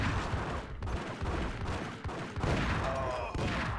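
Rapid gunshots in the video game Max Payne crackle in a dense, continuous volley, fairly loud and close, layered over a busy combat din with no talking.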